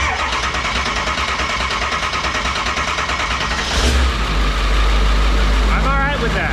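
A Ford 7.3 Powerstroke diesel engine, swapped in with standalone wiring, cranks and catches, its heavy rumble settling into a loud idle close by, with faint talk over it.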